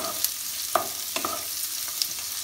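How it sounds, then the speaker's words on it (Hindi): Onions fry in a pan with a constant close sizzle, while a few sharp scraping stirs of a utensil against the pan cut through at irregular intervals and no one talks. "गोल्डन ब्राउन होने तक इसको फ्राई करना है"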